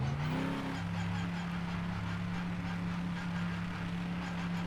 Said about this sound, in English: Let's see what this car sounds like